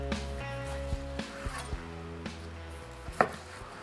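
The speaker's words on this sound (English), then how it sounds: "Let's slice them, see how we did" A knife slicing through coffee-crusted ribeye steaks on a board, a few quick crisp cuts and taps close by, with no talking.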